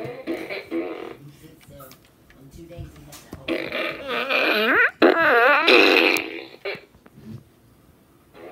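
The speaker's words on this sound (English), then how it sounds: "it would be a fart gun from the Minions" A Minions fart gun toy blurts out a series of wet, rising and falling fart noises, loud and close, with people talking around it.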